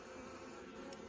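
Honey bees buzz around a hive box in a dense, continuous hum, close and steady through the whole brief moment with no other sounds.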